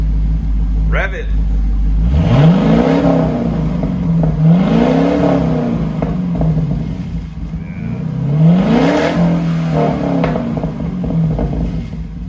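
A 2011 Camaro SS with a Solo Performance Mach-XL exhaust revs repeatedly from a rumbling idle, several rising and falling throttle blips close by, with a voice talking over it.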